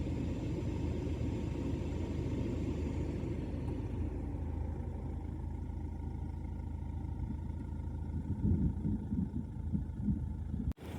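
A car drives along toward a campsite, a steady low engine and road rumble held close and continuous from inside the vehicle, with a few thumps near the end and no talk.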